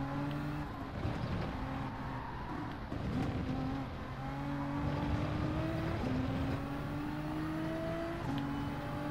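A race car in Gran Turismo 7 slows on a circuit, its engine tone falling and rising through steady, loud simulated drone with shifting pitch, with no voices.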